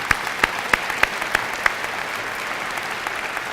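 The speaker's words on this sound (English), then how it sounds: "Let's have a well-deserved round of applause" Audience applause at a Veterans Day celebration for a retired sergeant major: steady, dense clapping from a large crowd, with a few sharper individual claps standing out early on before the sound settles into an even, continuous patter.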